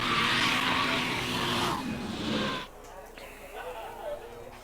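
A D1NZ drift car screeches with loud tire squeal and engine roar as it drifts past at Hampton Downs raceway, then fades abruptly, leaving quieter background voices.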